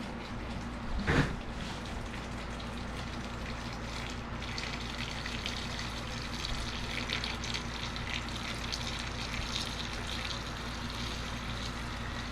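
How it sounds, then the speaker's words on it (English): Air bubbles up from beneath RC truggy tire rims submerged in water, a continuous close fizzing and gurgling that holds steady with no speech. "You can see the bubbling, the air trapped underneath the rims."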